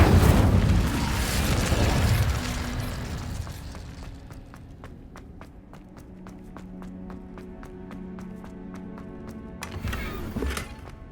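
A fire spell cast in Hogwarts Legacy bursts out as a loud, broad roaring whoosh over the first few seconds, then fades into quieter game ambience with soft ticking and hum, before a brief bright flare near the end.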